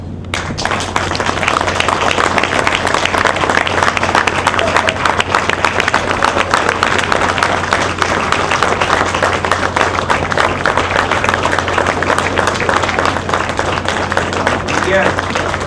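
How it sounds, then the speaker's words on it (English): Steady, sustained applause fills the hall at an annual chamber of commerce awards ceremony as an award recipient is honored, loud and dense throughout, with a low hum underneath and voices mixed in. "he deserves it to stand and clap"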